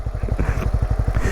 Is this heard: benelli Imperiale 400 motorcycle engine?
yes